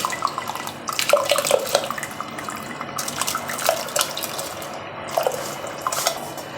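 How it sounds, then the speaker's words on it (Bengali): Basmati rice being poured into a pot of hot boiling water, a sustained watery rush with scattered splashes and pattering grains, fairly close and steady, with no speech. "জল গরম হয়ে গেছে, এবার জলের মধ্যে আমি চাল দিয়ে দেব।"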